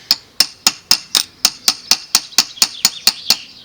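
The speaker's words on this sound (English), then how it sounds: "Just using a small cross pane hammer here just to drift this pin out." A small cross-pein hammer drives a drift against a pin, pushing it out of the arm of a Makita 9032 Powerfile during a nose bearing replacement. About fourteen sharp, ringing metallic taps come close up at an even, quick rhythm, with no talk.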